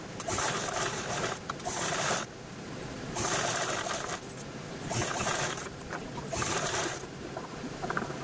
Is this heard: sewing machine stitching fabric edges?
yes